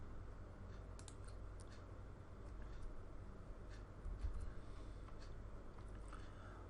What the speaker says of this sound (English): you can type your message here